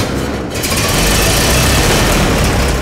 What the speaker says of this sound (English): Fire up the engine, have a listen to that.